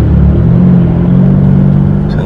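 A car engine revs close by, a loud steady low rumble with a sustained droning tone for about two seconds, heard from inside the vehicle.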